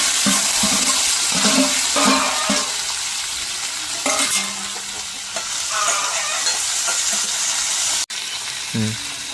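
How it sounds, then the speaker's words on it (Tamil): Chopped onions, curry leaves and fennel seeds fry in a pan of hot oil, giving a loud, continuous close sizzle with a few scraping stirs of a utensil and a brief sharp break near the end. "வெங்காயம் கொஞ்சம் பொரிஞ்சு வரும்"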